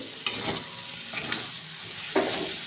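Fish fat sizzles softly in oil in a pan while a few sharp clinks and scrapes of a utensil stir the mix at irregular moments.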